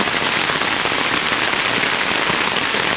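Rain falls outdoors in a dense, even hiss of drops on surfaces, loud and constant throughout with no voices.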